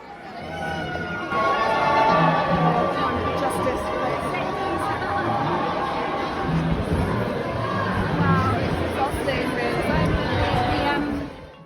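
A marching crowd fills a London street with a continuous murmur of many voices and chatter, steady and moderately loud throughout, with a few louder calls rising from the babble.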